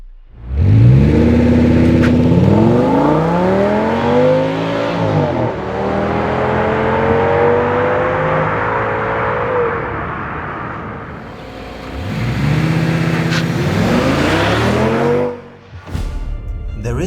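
An Audi S8 D3 with its 5.2-liter V10 petrol engine revs hard in repeated rising pulls. Each climb is loud and close, then falls back to idle, with a short pause between bursts and no talk.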